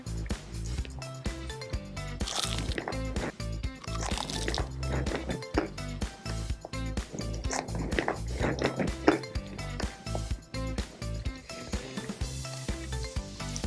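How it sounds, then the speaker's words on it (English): Crispy Korean fried chicken being bitten and chewed, giving repeated close crunches and wet chewing sounds that run steadily throughout. "Can you hear that crunch? It's so crunchy."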